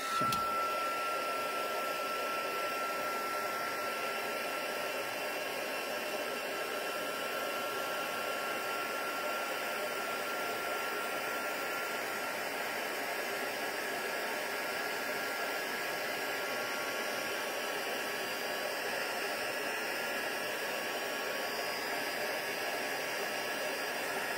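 A heat tool blows hot air steadily to melt copper embossing powder, a continuous close whooshing hiss with a faint whine that lasts throughout and has no talking over it.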